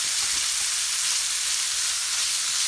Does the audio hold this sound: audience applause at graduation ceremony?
no